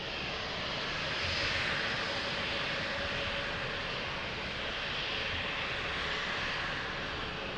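A passenger airplane landing at Lisbon Airport, its engine roar steady and broad from start to finish, moderately loud at a middle distance, swelling slightly early on and then holding level, with no voices over it.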